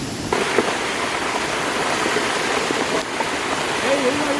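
Stream water rushes beside the Rangnagad Fort trail in Sindhudurg during heavy monsoon rain, a broad constant roar up close, with a few brief voiced sounds mixed faintly into it.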